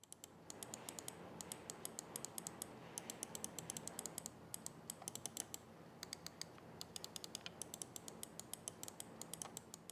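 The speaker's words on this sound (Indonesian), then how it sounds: "Contoh suara feedback dari Dareo Virgo LM108 Vertical Mouse" Dareu Vigor LM108 vertical mouse buttons clicked in quick rapid bursts, sharp light ticks close to the microphone, quiet and otherwise alone with faint room hiss.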